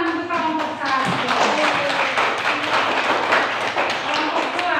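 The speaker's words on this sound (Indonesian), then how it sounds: "Ya, kita tepuk tangan untuk kelompok 1." Group applause at an elementary school class presentation: a dense, steady patter of many hands clapping nearby throughout, with a voice speaking over it at the start.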